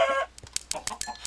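Chickens cluck in a Minecraft game, giving a few short, close clucks in quick irregular succession after a brief burst of other game noise.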